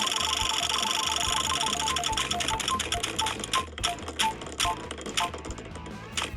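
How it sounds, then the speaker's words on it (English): A spinning selection wheel on screen ticks rapidly at first. The clicks then spread out and slow as it coasts toward a stop, all crisp and close. "Let's spin the wheel again."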